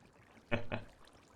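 Water placed from a bucket in a modded block-building game, two quick splashy pours in rapid succession against a quiet background.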